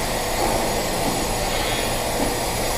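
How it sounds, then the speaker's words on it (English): Steady broadband hiss and rushing roar of gas flowing under pressure from coils back into a Chart Industries Orca XT 2500 vessel, continuous and unchanging, with no voices. "What you're hearing is gas flow coming back into the vessel from the coils"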